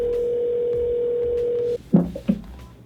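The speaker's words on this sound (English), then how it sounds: "let's make a phone call" A steady dial tone plays for about two seconds, then stops as a couple of quick electronic telephone dialing tones follow, with no talking.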